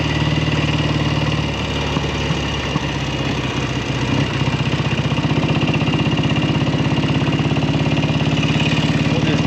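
A 1967 Kawasaki W1 650 motorcycle with one carburetor acting up idles steadily and loudly up close, its parallel-twin engine producing a rough, even putter that runs throughout.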